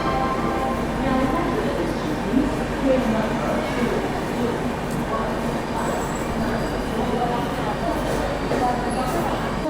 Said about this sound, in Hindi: यहाँ पर अपना अराइवल होता हुआ कलबुर्गी जंक्शन रेलवे स्टेशन पर अपनी चेन्नई एक्सप्रेस का